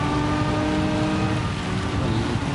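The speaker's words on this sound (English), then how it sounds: "There's some very light sprinkling of rain here." Steady light rain in the Gran Turismo 7 racing game, a continuous soft hiss with low rumble beneath, even and unbroken throughout with no voices.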